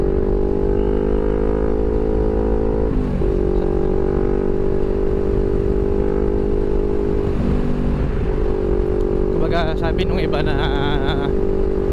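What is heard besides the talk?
CFMOTO NK400 motorcycle engine while riding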